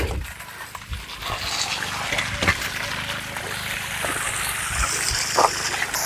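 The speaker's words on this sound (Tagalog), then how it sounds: "Malakas ang tubig." Steady, strong rush of water fills the scene with broadband noise, punctuated by a few brief splashes or knocks.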